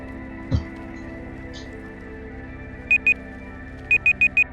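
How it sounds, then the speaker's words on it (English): A timer alarm in a cave-building game goes off as clear electronic beeps: a pair first, then a run of four evenly spaced beeps, over a steady background hum. "There's the timer."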